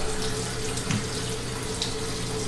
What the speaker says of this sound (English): I'm just gonna rinse the oxtail in cold water,